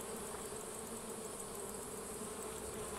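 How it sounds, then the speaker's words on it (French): Honey bees swarm over a hive frame holding brood, a dense, steady, close buzzing drone with no pauses and no voices. "Pas mal d'abeilles, du couvain ici."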